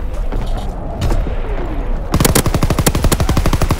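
Rapid submachine gun bursts in the Call of Duty video game on the Gustav Canyon map, a burst of closely spaced loud shots in the second half after a quieter stretch of game ambience.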